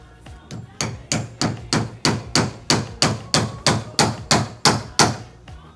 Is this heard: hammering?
yes